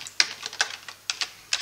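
Someone typing a Python command on a computer keyboard, about eight crisp, uneven key clicks in quick succession, close and alone.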